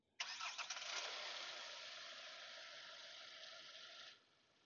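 A Hyundai Creta diesel engine running with the bonnet open gives a steady, broad mechanical hum after a sharp onset, holding even for about four seconds before dropping away, quiet overall with no talk.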